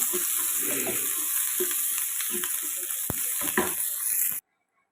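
Curry leaves sautéing in a pan with mustard seeds while crab curry is being made, a steady close sizzle with a few sharp stirring clicks and scrapes before it cuts off abruptly.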